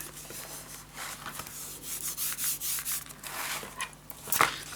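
Paper being burnished down onto a scrapbook storage tower craft project, close dry rubbing strokes repeating in a loose rhythm, with a small tap near the end.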